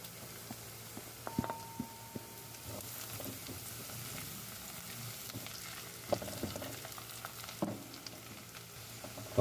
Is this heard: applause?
no